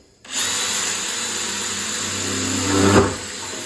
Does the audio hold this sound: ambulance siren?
no